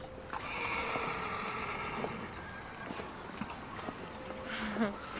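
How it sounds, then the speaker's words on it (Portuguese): Horse hooves clip-clop steadily while horses neigh and whinny in a period film set around the French court, with a busy ambient background and a brief louder whinny near the end. "Outro som recorrente é o de cavalos"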